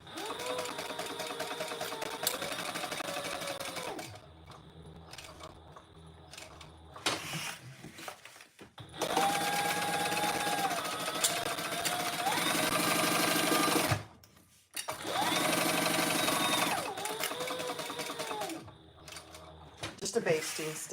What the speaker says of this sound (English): let's baste this in place. And baste it all the way around.